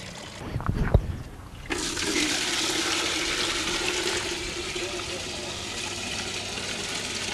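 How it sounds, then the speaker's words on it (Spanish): Water drains from a basin in a swirling clockwise whirlpool at the equator, a steady gurgling rush that starts abruptly and keeps flowing, with a voice briefly heard near the start. "Es un remolino. El remolino en sentido horario."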